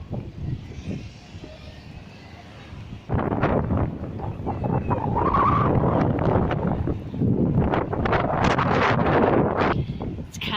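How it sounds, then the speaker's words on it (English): Strong wind buffets the microphone at Liverpool's docks, a low rumble that swells into loud, gusty roaring and stays heavy through most of the stretch. "that wind was a bit wild then, just crossing over though"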